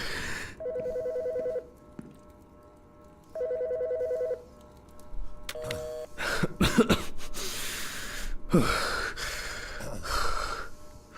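A telephone rings in Autopsy Simulator, two distinct electronic ring bursts with a pause between, followed by gasps, breathing and rustling movement close by.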